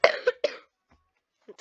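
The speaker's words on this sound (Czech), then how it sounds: "Trochu kašel." Two or three harsh coughs come in quick succession close to the mic, then a short silence before a faint throat sound at the end.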